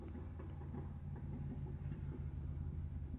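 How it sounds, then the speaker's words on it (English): A loud car passes close by outdoors, a heavy low engine rumble that holds steady throughout. "loud car going by"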